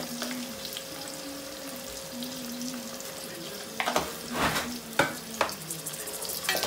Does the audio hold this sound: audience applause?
no